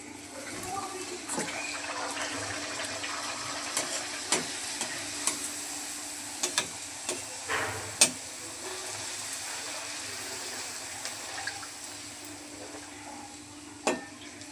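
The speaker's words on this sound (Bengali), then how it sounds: "দেখেন বন্ধুরা, লুচিগুলো কত সুন্দর করে ফুলছে।" Luchi puffed flatbreads fry in hot oil, a soft continuous sizzle with scattered clicks and light stirring taps, fairly quiet, while someone talks over it at times.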